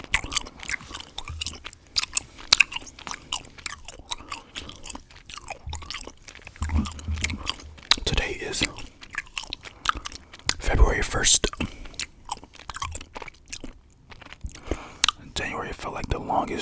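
Hi-Chew fruit candy, Tropical Mix and Fantasy Mix, is chewed close to the mic in a steady run of sticky, wet mouth sounds with faint whispering now and then.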